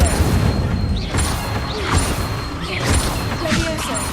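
Incendio fire spells are cast in combat in Hogwarts Legacy, with whooshing bursts and booming impacts among chaotic clashes, while a player talks over the action.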